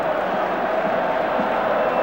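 Wembley Stadium crowd at the 1975 FA Cup final between West Ham United and Fulham, a steady broad roar of distant cheering filling the stands without a break.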